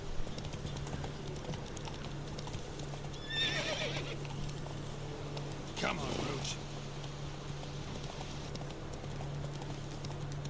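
A horse in The Witcher 3 video game neighs twice amid steady clip-clopping hooves, with faint talk and a constant low game hum underneath.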